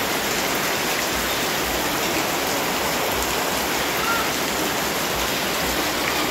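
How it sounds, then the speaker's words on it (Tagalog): Steady rain hisses continuously, a dense even wash of falling water with no pauses. "ang gagawin namin ni Curie ay maligo ng ulan po"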